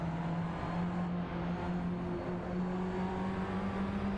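Racing cars in a video game driven with an AliExpress shifter, a steady engine drone with a sustained tonal hum and a slight shift in pitch, moderate and continuous without speech.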